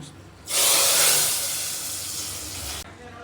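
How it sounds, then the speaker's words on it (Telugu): Tempering of mustard seeds, cumin, chana dal, curry leaves and chillies poured into dal with amaranth leaves, a sudden loud hissing sizzle that starts abruptly, fades slowly, then cuts off, with no talk. "ఇప్పుడు తాలింపు వేసుకుంటాము."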